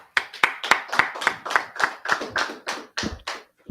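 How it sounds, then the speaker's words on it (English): A dozen sharp hand claps in a steady, even rhythm at a religious brotherhood class, close and distinct with no voices, slowing slightly toward the end. "Let's clap it up"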